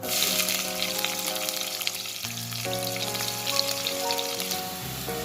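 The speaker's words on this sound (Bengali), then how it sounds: "পেঁয়াজ কুচিটা আমার ভাজা হয়ে গিয়েছে" Chopped onion fries with cumin seeds, bay leaf, clove and cardamom in hot oil, giving a loud, continuous sizzle and crackle close up, with a tonal hum running beneath it.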